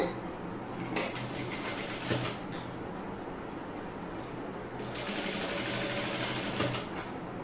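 A sewing machine stitches a neck cross piece on an unlined garment in two close, steady bursts of rapid mechanical whirring, with a short pause between them and no voices.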